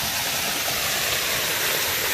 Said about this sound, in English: And I'm behind the waterfall.